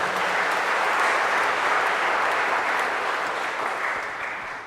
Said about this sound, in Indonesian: tepuk tangan untuk seluruh panitia